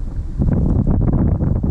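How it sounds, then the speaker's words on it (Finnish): Strong wind buffets the microphone in heavy, low rumbling gusts, loud and continuous with no voices, outdoors while fishing for pike and perch. "Tänään on tosi kova tuuli,"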